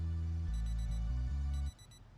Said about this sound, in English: I set an alarm for around 6 p.m. so he could have himself a quick nap